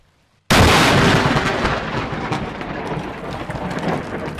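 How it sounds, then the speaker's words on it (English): A lightning strike hits a terrace about five meters away during a storm in Norway, a sudden loud close crack that bursts out of near silence and rolls straight into a dense, sustained roar of thunder and heavy rain. "Lightning strikes at the other end of his terrace"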